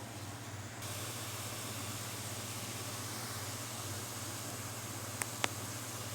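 Grated onion sizzling in a hot pan, a steady close hiss with a low hum underneath and a couple of faint clicks near the end, no talking.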